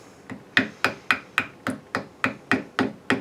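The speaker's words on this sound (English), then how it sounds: "So I think that's about what we can get with the chisel that way." A wood chisel is struck repeatedly while cutting a pinewood derby car body, giving about ten sharp, evenly spaced taps in a steady rhythm, close and fairly loud with no talking.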